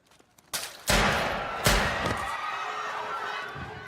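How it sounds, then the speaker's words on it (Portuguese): Two loud, sharp gunshots in a film go off in quick succession, each followed by a long, booming echoing tail that fades slowly. "É tiro."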